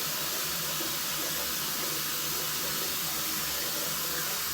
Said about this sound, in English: Let's go ahead and just get the hot water running so we can splash that on the face